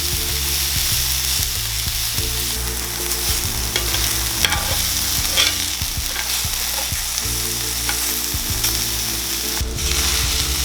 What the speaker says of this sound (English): Saute the marinated portobellos for several minutes.